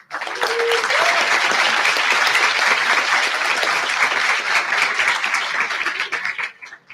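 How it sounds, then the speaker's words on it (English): An audience at a Latin American and Caribbean regional industry event applauds its sponsors with steady, dense clapping from a large crowd that holds for several seconds before fading. "Let's give them a round of applause."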